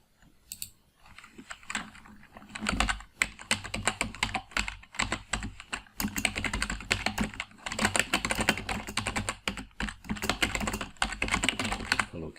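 Steady, fast typing on a computer keyboard, dense runs of crisp key clicks close up with brief pauses, alone with no talk.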